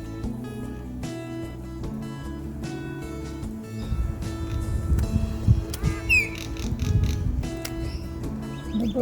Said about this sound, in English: The birds are demanding food for me.